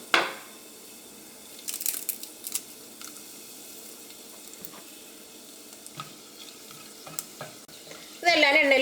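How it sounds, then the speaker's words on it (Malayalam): Whole spices, cinnamon, peppercorns and bay leaves sizzle in hot oil for a chicken stew, a low steady fry broken by stirring clinks, with a louder burst of sizzling near the end. "ഇതെല്ലാം എണ്ണയിൽ കിടന്ന് നന്നായിട്ട് മുരിഞ്ഞിട്ടുണ്ട്."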